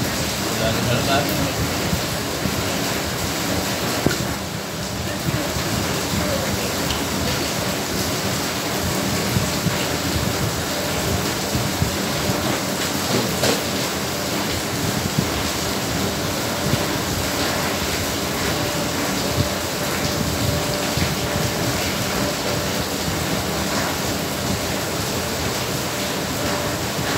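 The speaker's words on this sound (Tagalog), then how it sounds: "Malakas na naman ang ulan" Dense, steady hiss of heavy rain pours without letup, loud and close, with a faint voice or two occasionally underneath.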